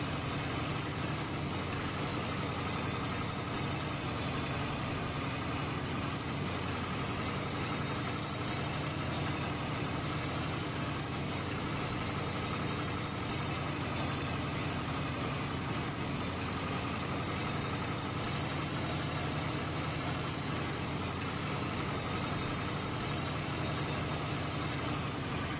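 A tractor engine in Farming Simulator 25 runs steadily at a low idle-like drone, a constant even rumble lasting throughout with no talk.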